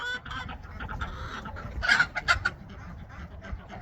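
Chickens cluck on a small farm, a few close, sharp clucks and squawks rising over quiet barnyard background noise.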